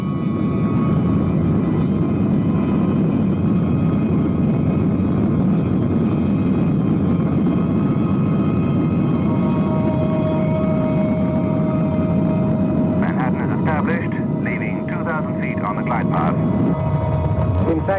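British Airways airliner on landing approach, its jet engines a steady broadband roar throughout, with a radio-style voice and a faint tone entering near the end.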